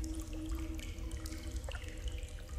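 Water drips and trickles inside the video game Among the Sleep, a soft, steady wet patter with small splashes, faint and alone with no talk.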